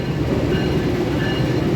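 A Tawang Jaya regular economy-class train rolls into platform 6 at Bekasi station with a steady, loud, close rumble of wheels and carriages that continues unbroken, and no voices.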